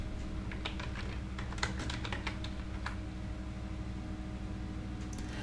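Fingers type a search for a post grid plugin on a computer keyboard in the WordPress admin dashboard: a quick, uneven run of close key clicks with pauses, over a steady low hum.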